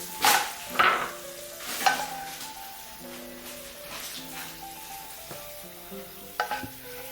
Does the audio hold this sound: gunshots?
no